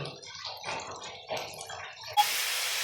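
Water runs from a tap into a vessel with a soft splashing hiss that suddenly grows into a steady, louder rush near the end.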